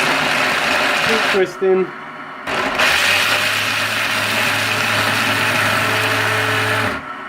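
A JR Ultra Touch 3 Quantum brushless commercial blender grinds nuts into flour, a loud steady motor whir running about four seconds after a brief start, with someone talking over the opening.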